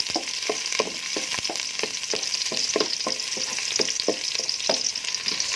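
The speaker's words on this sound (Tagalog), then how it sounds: "So, init na ang ating oil. Lagay na natin ating bawang." Garlic frying in a little hot oil in a home kitchen pan, a loud continuous sizzle with rhythmic scraping and stirring taps, close up and without talk.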